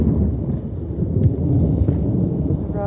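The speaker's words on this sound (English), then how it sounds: "You hear the thunder." Thunder rumbling low and continuous through steady rain at an abandoned cemetery, a loud, dense roar that fills the whole moment with no voices.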